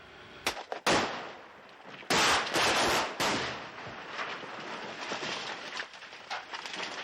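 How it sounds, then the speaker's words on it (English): Film stunt cannon fire and powerful explosives detonating at a swamp house in the Everglades, several sharp loud blasts and bangs followed by a long rumbling, crackling roar. "A cannon will be fired by Lynch toward the house, and the powerful explosives will be simultaneously detonated."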